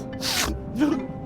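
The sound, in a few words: sneeze from a video game character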